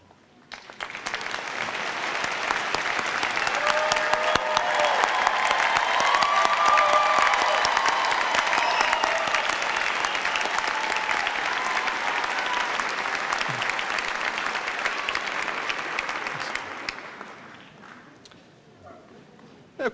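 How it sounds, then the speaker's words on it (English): An audience applauds graduating students at a 2016 Virginia Tech National Capital Region commencement ceremony. The clapping is loud and sustained, swelling after a second and holding steady for about fifteen seconds before fading out. "May I ask them to stand so we can applaud for you?"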